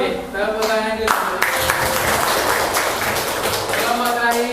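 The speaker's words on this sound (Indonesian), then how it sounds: "Oke, tepuk tangan dulu." A classroom audience applauds after a group's class presentation, broadband clapping running steadily throughout with voices and chatter mixed in beneath it.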